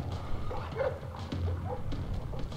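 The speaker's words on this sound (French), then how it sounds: "Il reste plus que le toutou." Dog in the stealth game Splinter Cell Blacklist, giving soft yips and whimpering barks over a busy, rumbling game soundscape, at moderate distance.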